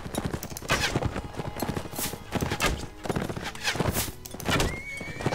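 A horse in the medieval combat game Mount & Blade: Warband whinnies amid rapid hoofbeats and clattering battle noise, the neighs loud and close over busy clip-clop.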